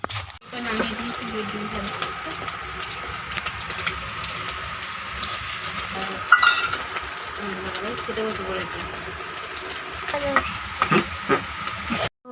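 Sliced potol, or pointed gourd, fries in a pan while a utensil stirs and scrapes against it in a steady sizzle, with intermittent clinks, and someone talks over the cooking.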